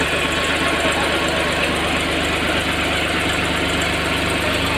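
A Sonalika 35 DI tractor diesel engine running just after starting, with a loud, steady, close knocking idle rumble that continues unbroken with no talking.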